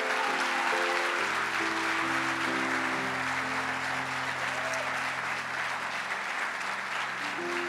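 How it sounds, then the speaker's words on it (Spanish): Congregation applauding enthusiastically during a church sermon, a steady wash of claps throughout, with sustained organ or keyboard chords playing underneath. "Si lo va a aplaudir, hágalo con ganas."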